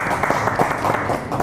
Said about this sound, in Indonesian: Tepuk tangan buat Lampung.